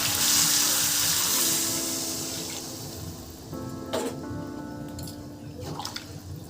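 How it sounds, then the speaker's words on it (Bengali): Water pours into a pot of cooking mutton curry, a loud rushing stream at first that gradually thins, followed by a few bubbling splashes and clinks. "এখন জল দিয়ে দিচ্ছি।"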